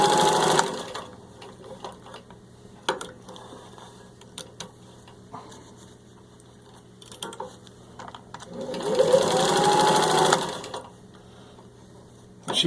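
Vintage 1952 Singer 15-91 sewing machine, serviced and rewired, stitching through four layers of thin leather: close mechanical whirring runs in bursts, rising to a fast loud stretch near the end, with ticks and clicks between.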